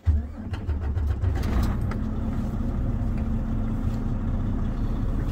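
A Class 1 truck's engine runs steadily at idle during a pre-trip inspection, a continuous low rumble with a faint hum that stays near and even throughout, with no talk.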